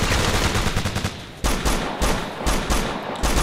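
Gunfire in the military shooter game Operation Flashpoint 2: Dragon Rising comes as loud, close bursts of rapid automatic shots broken by brief gaps.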